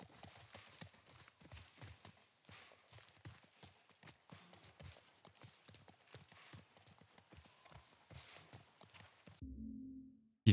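A horse ridden in The Last of Us Part I clip-clops in a steady, rapid hoofbeat rhythm, quiet and continuous, then breaks off into a short low rumble at the end.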